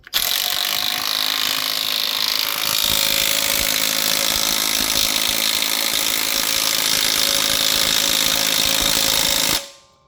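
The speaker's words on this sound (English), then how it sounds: "The impact gun is already ready to go." An impact gun drives the bolt onto the crankshaft damper pulley of a Datsun 280Z, giving one long, loud, continuous hammering whir of about nine seconds that cuts off abruptly.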